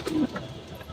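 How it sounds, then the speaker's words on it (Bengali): Sick pigeon with a cold and laboured breathing through an open beak, one short low coo-like wheezy sound up close, then faint quiet breathing noise. "কারণ এটা শ্বাসকষ্ট হচ্ছে যার জন্য নিঃশ্বাস নিতে অনেকটা কষ্ট হচ্ছে দেখুন একবার হা করে নিঃশ্বাস নিচ্ছে"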